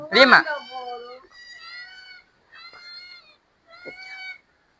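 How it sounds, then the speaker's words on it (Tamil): A small red-coated kitten at a relative's house in Jaffna meows several times in a row, with high, thin, drawn-out cries at close range after a brief burst of voices. "பூனைக்குட்டியை பாருங்க"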